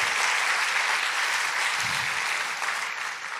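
Steady, dense audience applause from a church congregation, loud and continuous throughout with no speech over it.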